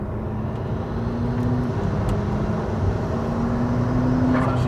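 A McLaren P1 drives in fourth gear over a crest, its engine a steady, moderately loud hum with faint whining tones and road rumble underneath.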